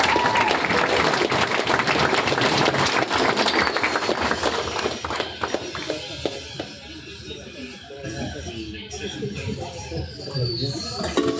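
Audience at a tech demo day breaks into sustained clapping and cheering, loud and dense at first, then thinning out into scattered claps with some crowd murmur.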